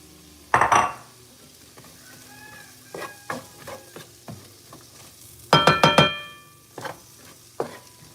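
Sausage, garlic and onions stirred in a pot, loud metallic scrapes and clanks of the spoon in two main bursts with lighter taps and soft sizzling between them, close up and without speech.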